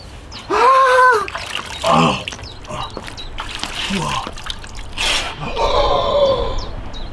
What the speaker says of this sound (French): Je vais mettre de l'eau dessus.